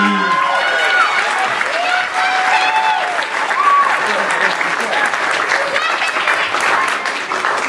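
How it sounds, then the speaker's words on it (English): A crowd at a small comedy show claps and cheers steadily as comedian Jesse is welcomed to the stage, a dense, sustained burst of applause with scattered whoops. "Clap for Jesse."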